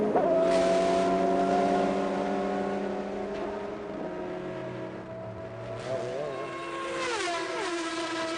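An MG race car driven hard at the 2002 24 Hours of Le Mans, its engine a loud steady howl with shifting pitch as it passes other cars, running continuously from start to finish.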